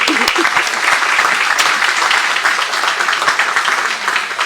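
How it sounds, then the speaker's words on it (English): A crowd at a high school hall of fame induction ceremony claps loudly and steadily, a dense, close burst of applause lasting several seconds with a few sharper individual claps standing out. "You can clap for that."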